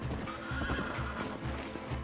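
Hooves clip-clop at a steady walking rhythm with a horse's whinny on top, close and continuous, from a horse being led along in the Red Dead Redemption western video game.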